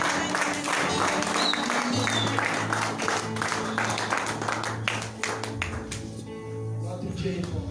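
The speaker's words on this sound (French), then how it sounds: "Acclamons pour la gloire de Dieu." A church congregation applauds to praise God, with dense, steady clapping from many hands under music and voices, easing off slightly near the end.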